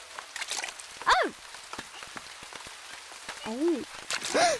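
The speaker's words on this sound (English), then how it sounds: "The rain makes a lovely noise in the bucket." Rain patters faintly into a bucket outdoors as scattered small drips and splashes, while cartoon voices call out over it.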